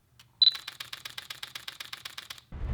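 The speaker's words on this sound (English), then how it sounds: "a nice shutter sound and a buttery, smooth and silky shutter release" A Fujifilm X-H1 fires a burst of about fifteen quick, crisp shutter releases in an even rapid rhythm, close and clear, opening with a brief electronic beep and ending abruptly into a low rumble.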